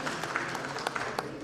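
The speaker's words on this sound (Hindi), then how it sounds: "उनके लिए ताली लगा दें।" An audience at a Dogra community gathering in Jammu gives a short burst of scattered, moderate clapping, with a voice faintly beneath it.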